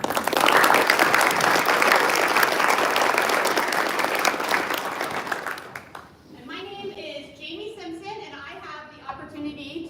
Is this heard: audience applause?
yes